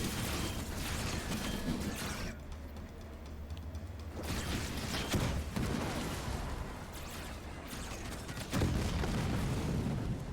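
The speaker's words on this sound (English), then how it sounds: "Plasma rounds. Doing some nice AoE there." Plasma rounds bursting in the real-time strategy game Halo Wars 2, a dense run of deep booms and blasts with rumbling low end, briefly dropping away midway before a louder burst returns near the end.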